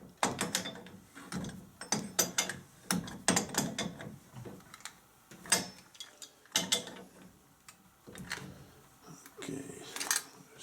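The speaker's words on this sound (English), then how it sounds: "So we'll just help it along with the crescent wrench." Crescent wrench turning a loose but stiff fitting on a hot water heating zone valve, giving a series of short metallic ratcheting clicks and scrapes in uneven bursts, close up, with brief pauses between turns.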